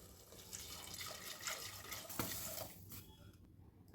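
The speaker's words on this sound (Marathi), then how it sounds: "आता आपल्याला याच्यात गरम पाणी घालायचंय." Hot water poured into a pan of simmering dum aloo curry, a close, continuous splashing and gurgling pour that tapers off near the end, with no talking.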